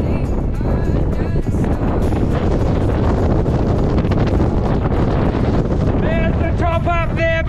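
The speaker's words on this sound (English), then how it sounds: "There's the top up there, but it's just too windy." Strong wind on an exposed beach hilltop buffeting the microphone in a constant loud roar, with a voice speaking briefly near the end.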